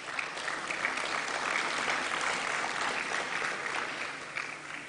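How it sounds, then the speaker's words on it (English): Sustained audience applause for students at a university sport awards evening, a dense steady wash of many hands clapping at even loudness throughout, with no speech over it. "So another round of applause, please, for our students."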